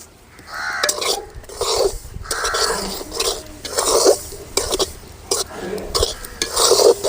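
Ragi flour roasts dry in a pan while a spoon scrapes and stirs it in rhythmic, close strokes, with a few metallic knocks against the vessel.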